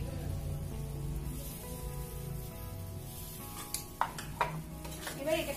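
A chili and cumin paste is stir-fried in a pan with a steady soft sizzle, then a few clinks and scrapes from the spatula near the end. The sound is close, with no clear talk.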